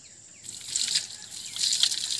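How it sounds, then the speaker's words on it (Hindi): Water pours into a clay pot with a soft, gurgling trickle that swells and fades in uneven bursts, heard up close with no voices. "घड़ा में पानी भरने के बाद"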